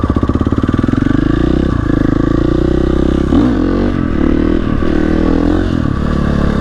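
Motorcycle engine ridden steadily during wheelie practice, a loud, continuous close-up drone whose pitch rises and dips with throttle changes, and no voices over it.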